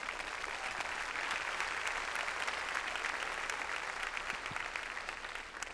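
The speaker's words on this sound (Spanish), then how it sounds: "Démosle un aplauso al Señor." A church congregation applauds together, a dense, steady burst of clapping filling the room for several seconds before it starts to taper off.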